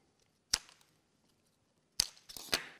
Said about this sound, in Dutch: Knip de elastiekjes weg.